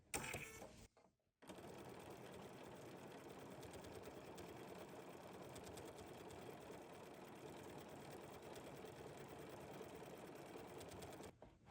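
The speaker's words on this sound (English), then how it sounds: "I'm going to stitch this right to the side here" A sewing machine runs a triple stitch with 28 weight thread on a quilt, a steady, continuous mechanical whir and rapid needle clatter for about ten seconds after a short start and pause, with no talking.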